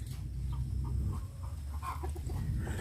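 KUB chickens in a small backyard flock cluck in short, scattered bursts at moderate distance over a steady low background hum, the soft calls overlapping irregularly.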